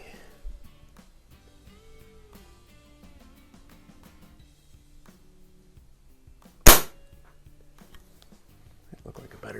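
A single sharp crack of a Crosman 100 .20 caliber pellet rifle firing, loud and close, rising out of near-silence midway through with faint handling noises before and after.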